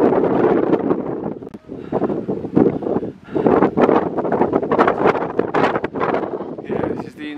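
Gusty wind rumbles against the microphone in loud bursts and lulls on top of Glastonbury Tor, with a person talking under the blustery noise.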